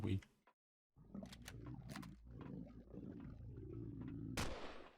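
Enemy gunfire in the space survival game Empyrion Galactic Survival, heavy booming shots and impacts scattered across a few seconds with a rumbling battle background, ending in a sharp loud blast.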